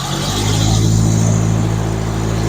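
A car carrying four people reverses and pulls away on a road near a wind turbine field, its engine a steady, loud, close rumble throughout with no talking.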